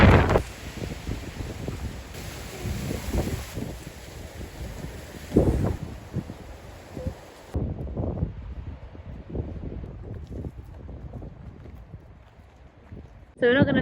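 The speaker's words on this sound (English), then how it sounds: "It is really windy." Strong wind buffets the microphone on a hillside, producing gusty low rumbles and thumps that come and go across the whole stretch, with a person talking briefly under the blustery noise.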